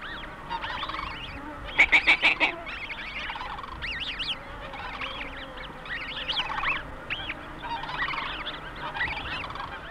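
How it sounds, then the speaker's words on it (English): Snow geese on thawing Arctic tundra give repeated nasal honks and yelps, with a quick burst of four rapid calls early on, then scattered overlapping calls at moderate distance over a steady outdoor background. "The snow goose family is ready for its first swim"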